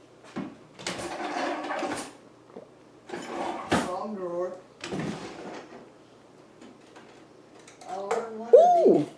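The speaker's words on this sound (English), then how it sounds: "Wrong drawer." A kitchen drawer is pulled open and pushed shut in a series of short wooden scrapes and knocks, with people talking close by and a brief whistle-like tone near the end.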